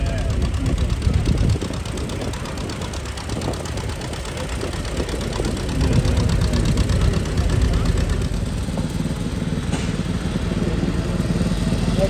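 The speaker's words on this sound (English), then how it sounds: "that 2-cylinder Johnny Popper" A 1936 John Deere two-cylinder tractor runs at an antique tractor show parade, its engine a steady, loud, low throbbing chug lasting the whole stretch, with voices heard alongside.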